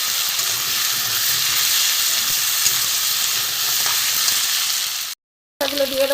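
Ground spices (cumin, coriander) and grated ginger frying in a pan with a steady, loud sizzle and stirring scrapes, continuous before a brief silent break, then resuming.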